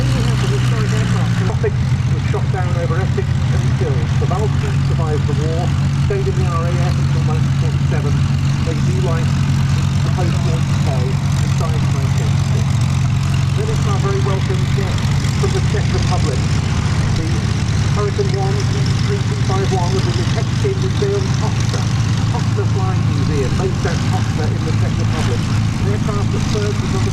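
Historic propeller-driven warbird at the Duxford Battle of Britain airshow, a loud, steady engine drone with a constant low hum throughout, while a commentator talks over it.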